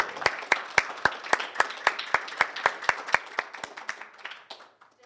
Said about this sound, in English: please join me for one last round of applause for Melissa